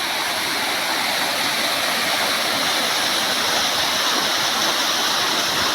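A waterfall beside the road to Cumbum in Theni roars loud and close as a constant, unbroken rush of falling water with no voices.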